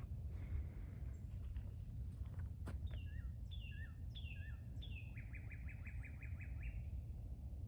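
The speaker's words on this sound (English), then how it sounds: "That's pretty cool, that bird." A marsh bird gives a series of clear, rapidly repeated whistled notes that rise into a quick trilling run, heard alone over a steady rush of wind outdoors in the reeds.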